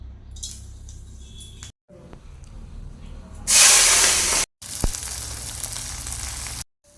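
Whole garam masala sizzling in hot mustard oil in a wok, a loud steady hiss that swells into a bright spitting burst, broken by short cuts.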